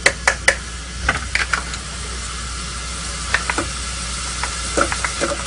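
Onions and green peppers sizzle in olive oil in a pan for chili, a steady hiss broken by sharp clicks and scrapes of stirring, close and fairly loud with no talk.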